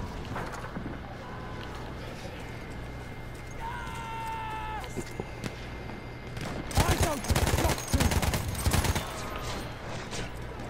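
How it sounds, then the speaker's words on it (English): A Madsen light machine gun fires in the video game Battlefield 1, several loud rapid bursts in the last third over a steady background battle din, with a voice talking earlier. "Let's get in there with our Madsen light machine gun"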